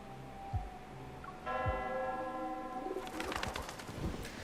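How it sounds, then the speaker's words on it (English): In the video game Love and Deepspace, a church bell rings and doves coo, then their wings flutter in a burst of flapping as they take off. The bell is clear and ringing, and the birds are close and rustling. "The bell startles the doves and they fly into the air."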